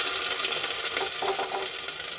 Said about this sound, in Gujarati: એમાં આપણે આદુ લસણ અને મરચાંની પેસ્ટ એડ કરી દઈશું